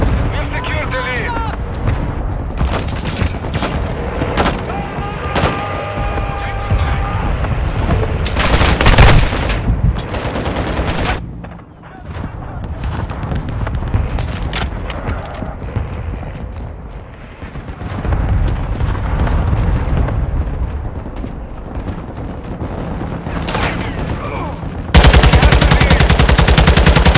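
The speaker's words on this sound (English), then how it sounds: "Friendly mortar strike inbound." Call of Duty MW2 combat with a friendly mortar strike: heavy booming impacts mixed with bursts of machine-gun and rifle fire, loud and continuous, with radio-style voice callouts over the battle.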